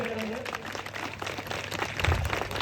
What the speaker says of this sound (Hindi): तालियों के साथ आप लोग अभिवादन करेंगे।